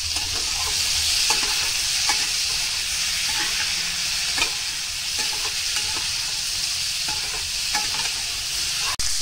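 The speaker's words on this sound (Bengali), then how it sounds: "সিদ্ধ করা কাঁকড়টা এখন আমি ভাজি।" Boiled crab frying in oil in a wok over high heat, a loud continuous sizzle with repeated scraping and stirring strokes throughout and a sharp clank near the end, no voices.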